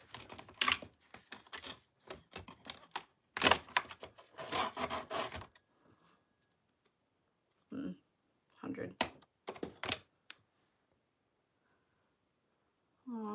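Nail filing with a coarse 100 grit file, bursts of dry rasping strokes in quick rhythmic runs, then scattered shorter strokes after a pause, close and fairly quiet.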